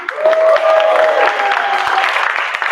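Audience applause at an outdoor noontime show with a guest performance act, a short burst of clapping close by that swells quickly and tails off over a few seconds, with a voice briefly audible through it.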